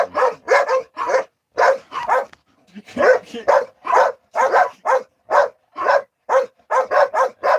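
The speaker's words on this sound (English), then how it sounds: "Chico's barking at them, they're barking at Chico." Dogs bark rapidly and excitedly in quick bursts, several voices trading sharp barks close by with brief pauses between volleys.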